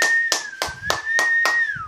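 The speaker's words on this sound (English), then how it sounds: "Let's clap for Amul." Guests clap at a birthday party, a handful of sharp, evenly spaced claps close by over a faint steady tone.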